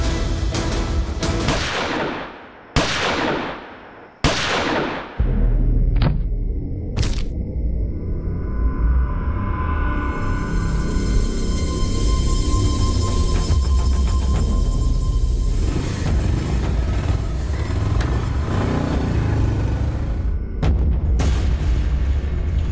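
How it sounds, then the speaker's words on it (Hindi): Gunfire and loud booming blasts in a staged election-violence crime drama scene, several sharp heavy reports in the opening seconds, then a sustained rumbling, crackling roar that holds loud until near the end. "गोलियां चलने की आवाज आई"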